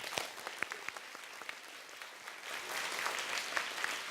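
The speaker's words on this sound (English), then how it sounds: "let's give them a thunderous round of applause." A theater audience claps steadily for about four seconds, a dense patter of many hands that swells slightly toward the end.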